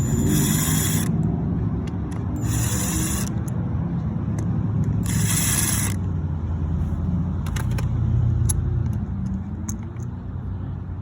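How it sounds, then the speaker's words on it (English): An impact wrench with an Allen key attachment loosening bolts on a 2014 Yamaha XT250 dual sport motorcycle during an oil change, three loud rattling bursts followed by lighter clicks and taps over a steady background hum. "Let's take my impact, Allen key attachment."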